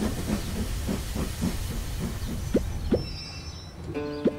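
A cartoon train pulls into a stop, its steam hissing in rhythmic puffs that slow down, then a few sharp clanks and a short bright whistle-like tone near the end. No one talks.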